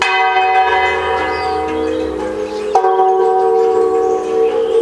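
Church bells ring loudly in overlapping peals at Queen Elizabeth II's state funeral, their rich tones sustaining with a fresh strike partway through.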